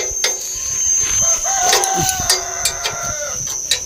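Chickens cluck and squawk nearby outdoors on a farm, with short rising calls over a constant noisy background with a steady high whine and scattered clicks.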